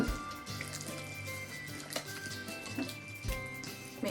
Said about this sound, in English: And then just mix that together.